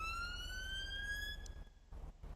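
A police car siren wails in an online roleplay video game, a single long electronic tone sliding slowly upward. It cuts off abruptly after about one and a half seconds, leaving a few faint clicks.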